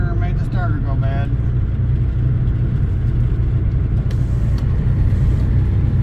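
A Chevy Malibu engine idles steadily with a low, continuous rumble just after its starter was replaced, close and constant throughout, with people talking over it near the start.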